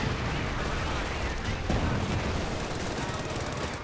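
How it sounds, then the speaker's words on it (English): Mortar fire in a Company of Heroes 2 battle, heard within a dense, continuous roar of gunfire and explosions, with a heavier thump near the middle. "the next mortar is shooting over the trees here"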